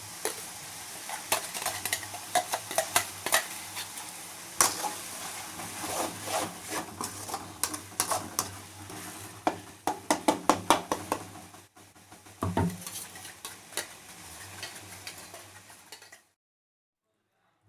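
Metal spatula scraping and stirring masala in a pan for egg gravy, with a steady sizzle of frying, irregular clinks and scrapes, up close with no voices.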